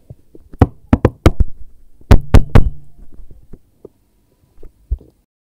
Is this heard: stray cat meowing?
no